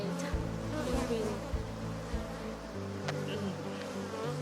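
Worker honeybees buzz around a beehive at a beekeeping site in Eswatini, making a dense, continuous drone of many wings that is close and fairly loud, with shifting pitches.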